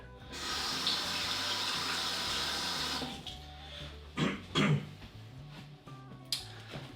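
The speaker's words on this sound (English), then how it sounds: "Just wash my hands again because I've been handling raw egg." A kitchen tap runs strongly for about three seconds while hands are rinsed of raw egg during scrambled-egg cooking, then shuts off, followed by a few soft clunks and handling noises.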